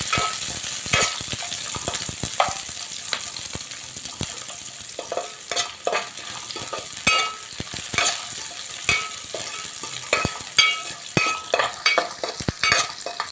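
Sliced onions and green chillies fry in hot oil for a chicken dum biryani, a steady crackling sizzle broken by repeated sharp scrapes and clatters of a spatula stirring the pan, close up with no voices.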